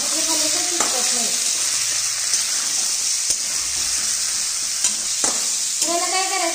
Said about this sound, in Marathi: आता हे चिकन आपण ह्याच्यामध्ये टाकून घेणार आहोत, आणि गॅस आहे मध्यम ठेवायचा